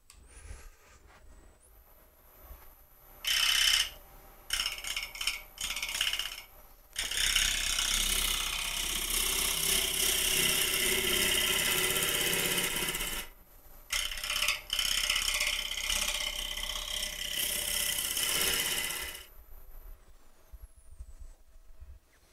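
Wood gouge cutting a rectangular bowl turned from a short branch on a lathe: intermittent rough, ragged scraping bursts, then long sustained harsh cutting passes with brief pauses between, close and loud with no speech.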